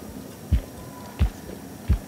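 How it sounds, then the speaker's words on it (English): Heartbeat in the Medusa's Labyrinth video game: three deep, muffled thumps spaced evenly about two-thirds of a second apart, standing out alone over a faint low hum. "Stop with the heartbeat"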